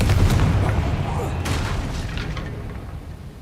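Confringo fire blast spell cast in Hogwarts Legacy, a booming explosive burst that rumbles and decays over a few seconds, loud at first and fading.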